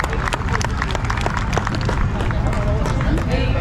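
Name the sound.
crowd applauding Texas Parks and Wildlife staff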